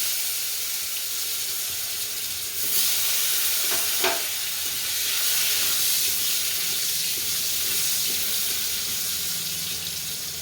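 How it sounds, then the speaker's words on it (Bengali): Potatoes fry in the oil left over from frying fish, producing a loud, dense, continuous sizzle that swells slightly midway, with a few faint utensil clicks and no voices. "মাছটা আমার ভাজা হয়ে গেছে, আমি ওই তেলেতেই আলুগুলো ছেড়ে দিলাম।"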